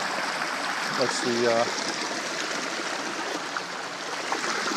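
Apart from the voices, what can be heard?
water flowing from hoses into farm water tank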